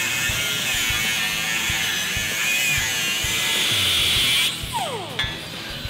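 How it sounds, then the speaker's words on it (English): A power tool cuts through the outer frame rails of a Ford Mustang, a steady high whining buzz with rapid rhythmic chatter from the metal, close and loud, before winding down and stopping near the end. "Cut this section of the outer frame rails."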